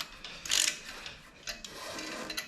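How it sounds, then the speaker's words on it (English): A ratchet tightening bolts on a 327 Chevy small block engine mounted on a stand, a few close quick clicking bursts with light metallic rubbing between them, no voices. "Then I'll just tighten these up a little bit."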